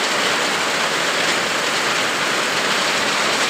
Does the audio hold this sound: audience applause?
no